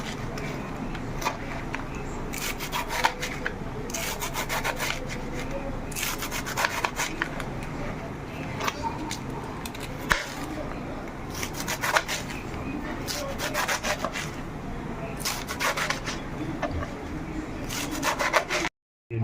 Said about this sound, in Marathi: अशी बारीक बारीक भाजी कापून घ्या